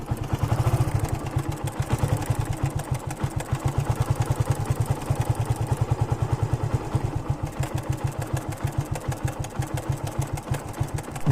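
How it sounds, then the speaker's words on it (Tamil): A Yamaha FZ150 motorcycle engine runs close by with a mild abnormal noise after starting, a steady fast rhythmic idle with a persistent clattering tick throughout and no voices. "அது ஸ்டார்ட் பண்ணும்போது இன்ஜினில் ஒரு மைல்டாக ஒரு நாய்ஸ் கேட்டுகிட்டே இருக்குது"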